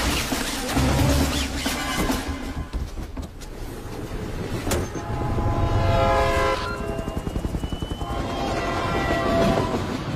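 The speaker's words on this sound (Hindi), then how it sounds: "सर, ट्रेन टनल के अंदर एंटर हो चुकी है।" Train rumbling into a tunnel, with a loud, close roar of rail wheels and steady rhythmic clickety-clack, plus a brief horn-like tone partway through.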